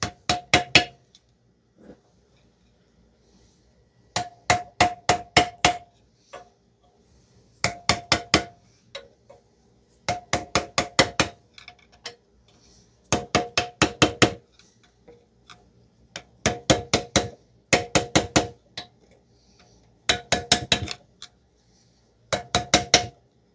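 A hammer strikes a screwdriver to free a stuck front wheel bearing part on a 2009-2019 Toyota Corolla: about a dozen bursts of rapid, sharp metallic blows, each burst a quick cluster separated by short pauses, fairly close.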